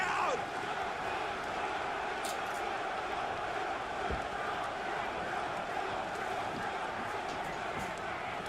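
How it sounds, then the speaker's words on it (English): A wrestling crowd at a Ring of Honor event in Lowell roars loudly and continuously, a dense arena wash of cheering and shouting that fills the whole stretch without letup. "The crowd exploding in Lowell."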